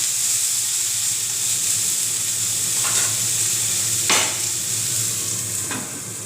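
Brinjal sizzling in a hot pan with a steady bright hiss, broken by a few distinct scraping strokes as it is stirred, close up and without speech.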